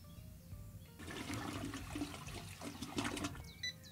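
Toilet flush in the video game Trader Life Simulator 2, a sudden rushing surge of water that swirls and gurgles for a few seconds, close and clear over a quiet game background with no talking.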